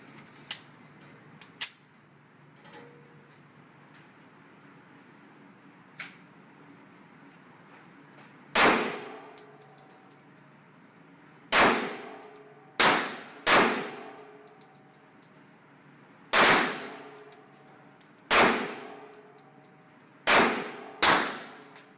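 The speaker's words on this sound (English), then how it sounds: "I'm going to put some rounds through it just so you can kind of see how it shoots" Springfield Armory EMP 9mm pistol fired at an outdoor range, eight or nine loud, sharp reports in an uneven sequence in the second half, preceded by a few faint clicks and handling sounds.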